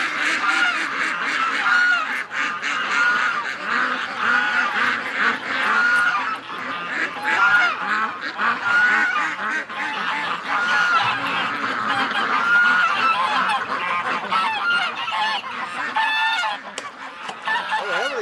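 A flock of geese honk continuously and loudly, overlapping calls filling the whole stretch with a dense, noisy chorus.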